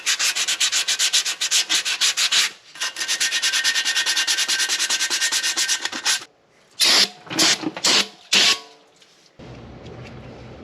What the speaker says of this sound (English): I'm going to hit these shoes with a little bit of sandpaper just to clean up the surface a tiny bit.